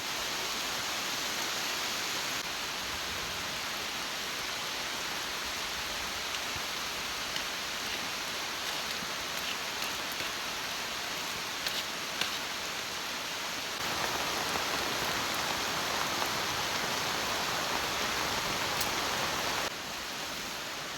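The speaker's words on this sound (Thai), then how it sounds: "พอดีเขามาฮอดเที่ยงอันนี้ปุ๊บฝนตกปับเลย" Heavy rain pours at night in a forest near an abandoned field hut, a dense, unbroken hiss that holds steady and swells louder for a stretch near the end, with no voices.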